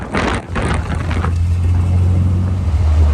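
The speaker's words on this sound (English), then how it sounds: "to downshift by double clutching, you can shift a little faster." An Austin Healey Bugeye Sprite engine drones loudly with wind rush, a quick blip of revs as it double-clutches on a downshift, then settles into a steady low hum.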